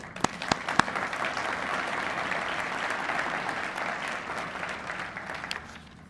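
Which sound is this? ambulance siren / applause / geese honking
applause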